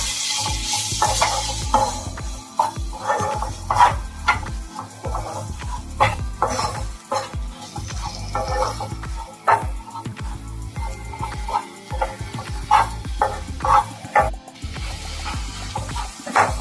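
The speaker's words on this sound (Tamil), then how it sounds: "மஞ்சத்தூள் இவ்வளோ போட்டு நல்லா மிக்ஸ் பண்ணிக்கோங்க" Masala spiced with turmeric is stirred in a pan for a chicken gravy, a spoon scraping in repeated strokes over a soft sizzle, with a dog barking now and then in the background.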